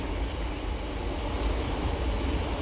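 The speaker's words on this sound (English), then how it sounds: "That's the train line just run over." A continuous low rumble of a passing train, steady and loud throughout, with no talking.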